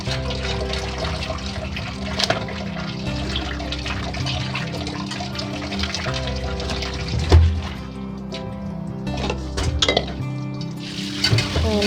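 Quail meat being washed in a large vessel, with water poured and sloshing steadily throughout, close and fairly loud, with a few sharper splashes and clatters along the way.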